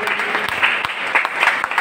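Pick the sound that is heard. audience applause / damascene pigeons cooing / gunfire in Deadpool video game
audience applause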